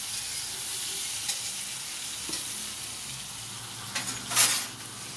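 Fried potatoes sizzle steadily in a hot pan as spices go in, a constant broadband frying hiss with a few brief utensil clinks and a louder scrape near the end, no talking.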